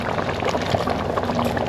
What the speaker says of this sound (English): Okay, so this is red oil. Okay, it goes in like that.